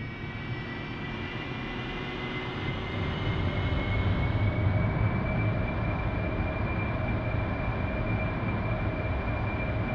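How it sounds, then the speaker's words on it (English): An AV-8B Harrier jet in the DCS flight simulator spools up for a vertical takeoff, a steady, loud engine roar with a high whine that swells slightly midway, with no talking over it. "Prepping for vertical takeoff."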